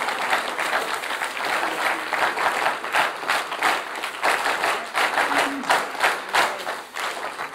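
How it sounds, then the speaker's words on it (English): Sustained applause from an audience at a talk honouring an Indian Air Force wing commander who fought in the 1962 and 1965 wars, dense clapping with loud swells throughout, with no talk over it. "big round of applause"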